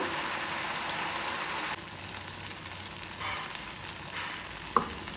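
Sabudana vada, a couple at a time, deep-fry in hot oil with a close, steady bubbling sizzle that briefly softens and then carries on, with one small clink near the end.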